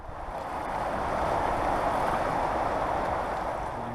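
A river on Wildcat Island rushes steadily in a broad, continuous wash, close and fairly loud, with no voices over it.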